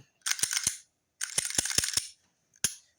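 A Glock pistol is cleared after its magazine is removed. Sharp metallic clicks and snaps of the slide and action come close and loud, in two quick clusters followed by one final click.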